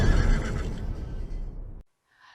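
A horse at a horse beauty contest lets out one loud close neigh that fades and then cuts off abruptly.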